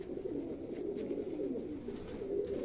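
A pigeon being handled gives low, soft cooing, a muffled, faint murmur that runs continuously over a few seconds.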